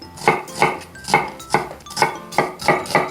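An onion is sliced on a cutting board with a knife, giving seven steady, evenly spaced chops, close and crisp, with no talking.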